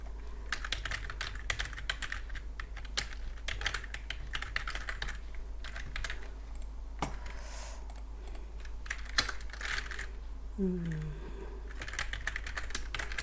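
Rapid keystrokes on a computer keyboard while HTML code is written, a steady close clatter of clicks with brief pauses and no talking.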